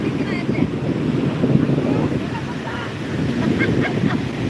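Large sea waves break on a beach, a continuous rushing surf with wind buffeting the microphone, steady and fairly loud, with faint voices now and then.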